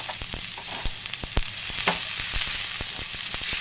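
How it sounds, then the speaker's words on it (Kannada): Onions fry in ghee in a pan, giving a continuous crackling sizzle broken by frequent sharp pops, close up and with no talking. "ಈ ಪ್ಯಾನ್ಗೆ ಇನ್ನು ಸ್ವಲ್ಪ ತುಪ್ಪ ಹಾಕ್ಕೊಂಡು ಈರುಳ್ಳಿ ಹಾಕ್ಕೊತೀನಿ."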